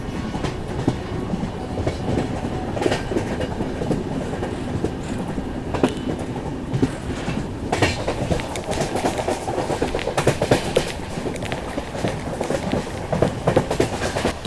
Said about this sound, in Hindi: कंटिन्यूस ट्रेन जो है वो 100-110 की रफ्तार में चल रही है